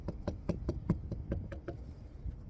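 Knuckles rap about ten times in quick succession on the door of a 1999 Dodge Ram 1500 fitted with sound deadening on the inner and outer door skins, each knock a dull, solid, close thud without metallic ring.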